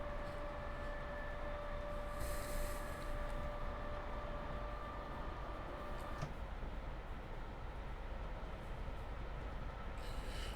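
Class 41 train running in Train Simulator Classic on the London to Brighton line, a steady rumbling rail roar with a sustained high whine that cuts off partway through, continuous and unbroken with no talk.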